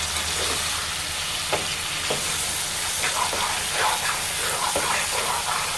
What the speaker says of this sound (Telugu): మధ్యలో అయితే ఇలానే కలుపుకుంటూ ఉండాలి